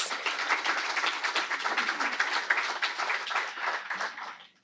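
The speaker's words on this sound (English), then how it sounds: "Let's give a round of applause for our panelists." Conference audience applauding panelists at the Philly Chef Conference, a steady, fairly soft burst of many hands clapping from across the room, fading out at the end.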